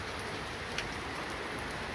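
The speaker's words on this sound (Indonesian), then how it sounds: "Tambah deras ya hujannya." Heavy tropical downpour at a market in Tanjung Selor, Kalimantan, a dense, steady hiss of rain drumming on surfaces with no break, close and enveloping.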